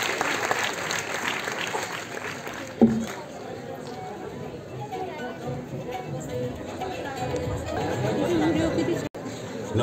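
A theatre audience at a Marathi stage play with Ashok Saraf applauds to welcome the cast, sustained clapping mixed with crowd chatter, loud and continuous for the whole stretch.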